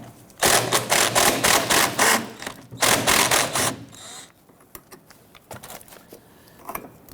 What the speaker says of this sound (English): I want to go ahead and loosen and remove this bolt.